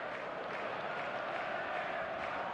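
Stadium crowd noise from the eFootball video game (Konami), a steady, dense roar of a large match-day crowd held at a constant level throughout, with no distinct voices or breaks.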